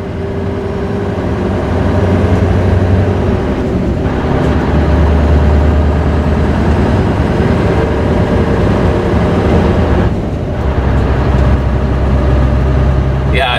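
A 2006 Scania T500 V8 truck engine roars steadily while the truck drives, a loud, continuous low rumble with broad mechanical noise that holds at a near-constant level throughout.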